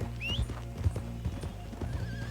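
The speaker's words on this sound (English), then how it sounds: "The game brought my actual good horse." Horse in Red Dead Redemption 2, a thoroughbred with steady clip-clopping hooves close by and a rising whinny near the start, plus a faint second neigh toward the end, with no talking.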